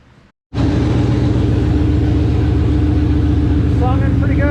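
An engine fires up after a stall, then settles into a loud, steady idle with a continuous low rumble close by, and faint brief chirps near the end.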